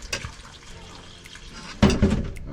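Water poured onto seasoned rice with sardine in a pot: faint trickles and handling noises at first, then a sudden louder splashing gush near the end that continues to the close.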